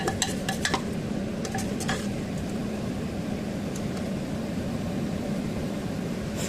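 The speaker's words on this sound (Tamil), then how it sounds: "நல்லா கலந்துக்கோங்க." Spinach and lentils being stirred in a cooking pot, a few light scraping clinks of the spoon at the start over a steady sizzling, bubbling background that carries on throughout.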